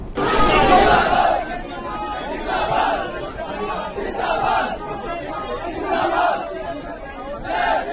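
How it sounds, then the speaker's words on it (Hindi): Protest crowd at Jantar Mantar, a dense outdoor gathering with rolling chatter and raised voices swelling in repeated waves, loud and close throughout. "एक बार जरा ध्यान से देखो कि ऑन ग्राउंड किस लेवल की भीड़ यहां पर आ चुकी है"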